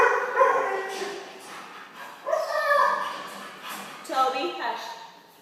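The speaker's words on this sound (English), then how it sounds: "We have dogs in here with us, so I apologize." Several dogs indoors yip, bark and whimper in short bursts, fairly close, while a person keeps talking over them.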